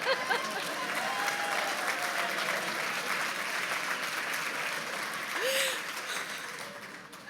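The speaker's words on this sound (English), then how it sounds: "I didn't know that would get applause" Sustained applause from an audience at a hope-themed program event, a steady even wash of many hands clapping throughout, easing slightly near the end, with a voice faintly present.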